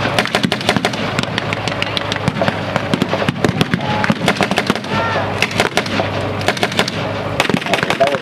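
Gunfire at a WWII battle reenactment: dense, rapid cracks and bangs, some in quick bursts, loud and fairly close, with distant crowd and commentary murmur underneath.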